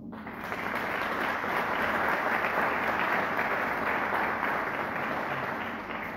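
Steady, dense applause from a seated audience at a fado album launch, rising quickly and holding evenly throughout, full and sustained with no voices over it.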